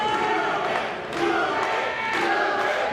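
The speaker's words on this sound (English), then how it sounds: "The crowd urging him on, chanting, "Do it!"" Capacity wrestling crowd at a Pandemonium III match, chanting and shouting together to urge a wrestler on, loud and sustained with rhythmic swells, with no clear single voice above it.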